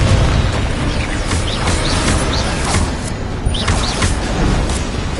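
Loud, dense blasts from a Confringo spell in the Hogwarts Legacy video game, with a steady roar and crackling bursts carrying through the whole stretch and no voices over them.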